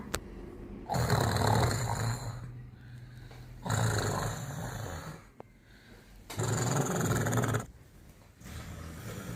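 Three slow, heavy snores rumble at a steady rhythm, each drawn out for over a second, with quiet pauses between them.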